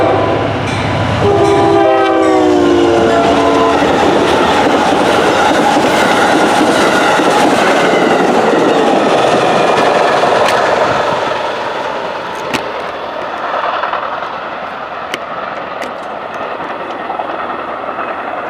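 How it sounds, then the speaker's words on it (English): An Amtrak Carolinian passenger train passes close by in Woodford, Virginia, its horn blaring loudly in long blasts early on, then a steady rumble and clatter of rail cars that fades slightly toward the end. "Amtrak 80, the Carolinian, in Woodford, Virginia."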